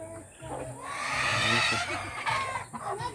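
Chickens clucking and calling nearby, a busy mix of squawks and clucks with a person talking over them.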